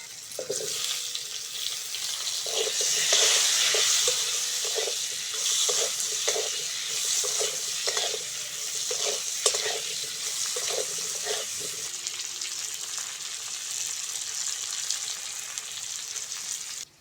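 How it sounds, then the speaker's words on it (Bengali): Black cumin seeds, green chili and potato pieces frying in hot oil give a steady hiss with repeated soft clinks of a spatula turning them in the pan, continuous and close. "কালো জিরে আর কাঁচা লঙ্কা ফোড়ন দিয়ে দেবো।"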